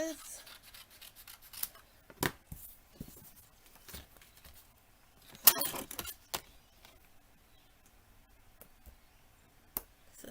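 Cardstock being trimmed to size for handmade cards, with quiet, scattered snips and rubbing clicks spread across a hushed room, no talk.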